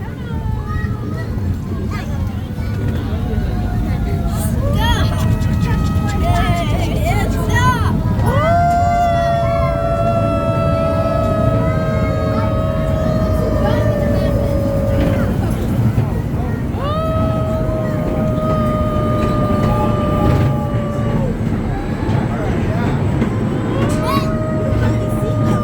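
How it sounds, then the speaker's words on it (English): A small forest park railroad train rolls along with a steady loud rumble and rattle, carrying repeated wavering whistle-like tones over the running noise while people talk nearby. "Thank you for riding in my park railroad today."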